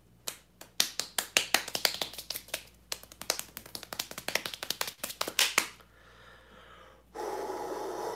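A burst of fast hand clapping, sharp close claps in quick uneven runs that speed up and then stop, followed by heavy breathing and a short rush of noise.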